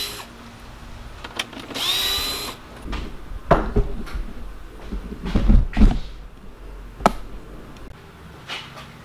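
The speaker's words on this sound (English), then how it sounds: "a little bit of sandpaper. Sandy, sandy, sandy. Just want to scuff these up" Sandpaper scuffs the surface of a van camper part by hand, giving uneven rasping strokes and bumps close by, with a short squeaky whine early on.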